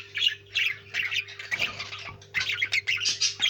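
Pet birds squawk and screech in repeated harsh bursts while being handled up close, a constant low hum running underneath.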